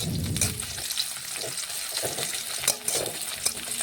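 Onions and chopped tomato frying in a pan while being stirred for a jackfruit and prawn curry, giving a steady close sizzle broken by scraping spatula strokes and a few utensil clinks, with no voices.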